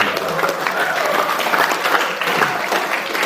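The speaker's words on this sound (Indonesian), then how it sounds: "Sekali lagi tepuk tangan." Steady audience applause at a high school, a dense wash of many hands clapping together at a fairly loud level throughout.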